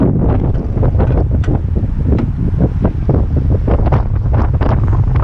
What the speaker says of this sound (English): Very cold out today and windy.